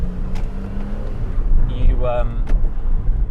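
A Porsche Cayman S 987.2 with Aerokit, PSE sport exhaust, PASM and Sport Chrono drives along, its low engine rumble steady throughout, with voices talking over it.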